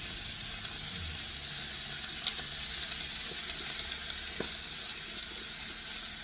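Steaks seasoned with smoked applewood sea salt sizzle steadily on a grill, with a faint continuous hiss and occasional soft pops and no talk.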